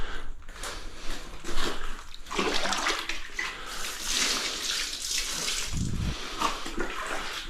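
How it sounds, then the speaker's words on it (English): Water is thrown across a bathroom floor while a tiler slurries the area for a mud bed. The splashing and rushing is steady and close for the whole stretch, ending in a short low thump. "So we'll throw down a bit of water"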